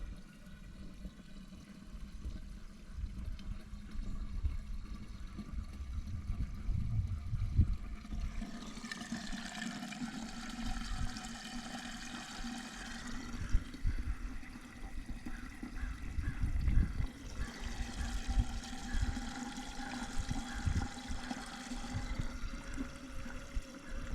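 Water pours steadily into a wicking garden bed until it overflows, a continuous gushing and trickling that swells in two louder surges, heard up close outdoors with no talking.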